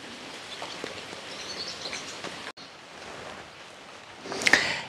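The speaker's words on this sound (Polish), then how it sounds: "pada." Rain falls steadily on a flooded garden after a day of heavy downpour, a soft continuous hiss that swells into a louder burst of drops near the end.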